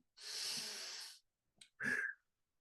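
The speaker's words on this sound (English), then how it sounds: "get started with a couple deep breathing exercises. Breathe in, hold it." A deep breath drawn in for about a second during a breathing exercise, close and clear, followed by a brief pause and a shorter, noisier exhale-like breath.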